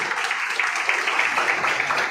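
A crowd claps steadily as an actress walks onto a stage at a film introduction event, a dense, even roar of applause throughout with a faint murmur of voices underneath.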